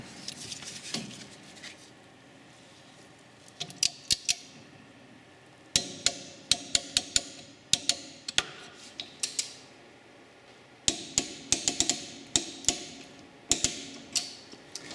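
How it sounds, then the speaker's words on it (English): A torque wrench tightens the rear brake caliper bolts on a car with sharp ratcheting clicks in several quick runs. A small click sounds at intervals among them, and there is a quiet workshop background between runs. "set up your torque wrench and get these locked up"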